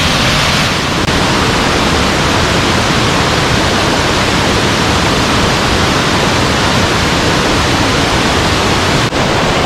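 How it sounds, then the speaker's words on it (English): Oneida Falls on Kitchen Creek in Ricketts Glen pours as a steady, dense broadband roar of falling water, close and constant with no voices. "This is Oneida Falls."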